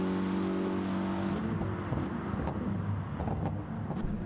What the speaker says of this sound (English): We're gonna hear the exhaust here.